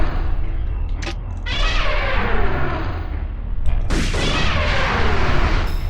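Grenade blasts boom in the video game Parasite Eve 2, two heavy explosions a few seconds apart with long rumbling decays over dense, loud game noise.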